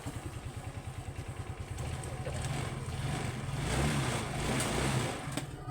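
Motorcycle fitted with a new sidecar idles quietly nearby, a low, even engine putter that swells slightly mid-clip, with no talking.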